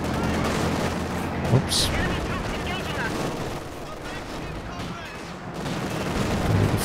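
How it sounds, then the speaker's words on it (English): Gunfire bursts from Soviet conscripts and a Panzer IV battle in the strategy game Company of Heroes 2, a steady wash of overlapping rifle and machine-gun fire with occasional louder cracks, someone commentating over it. "Crazy long range burst from the conscripts and down they go."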